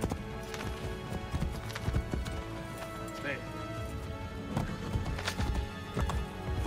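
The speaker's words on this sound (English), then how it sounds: "I'm gonna steal this horse." Hooves clip-clop in a quick, uneven rhythm as a horse gallops in the game Assassin's Creed Brotherhood, with a voice talking over it and a brief whinny.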